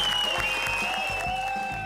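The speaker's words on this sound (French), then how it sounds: "Un Premier ministre applaudi sur un barrage." A crowd at a farmers' roadblock claps in a steady rhythmic beat for the French Prime Minister, a brief, close burst of applause with a thin tone running beneath it.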